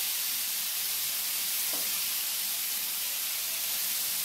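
Ridge gourd fries in a pan over a high flame, giving a steady, even sizzle and hiss that holds for the whole stretch with no voices.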